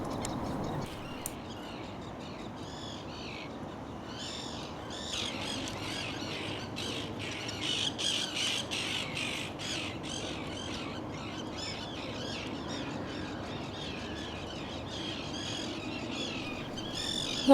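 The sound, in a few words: common terns calling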